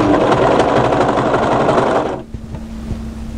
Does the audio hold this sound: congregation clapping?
no